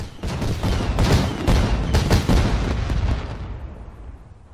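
New Year fireworks going off in a rapid volley of heavy booms and crackling bursts, loud and close at first, then thinning into a fading rumbling echo.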